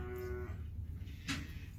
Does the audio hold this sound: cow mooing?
yes